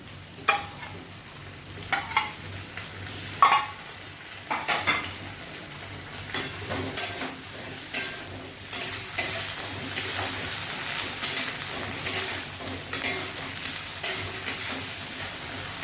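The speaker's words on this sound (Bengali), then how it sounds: "এই চালটা একটু ফ্রাই হোক, ডালটা তো ফ্রাই হয়ে গেছে।" Rice and lentils for khichuri fry in a pan while a spoon stirs them: a soft continuous sizzle under repeated scraping clinks of the utensil against the metal, fairly close and at a moderate level, with no talking.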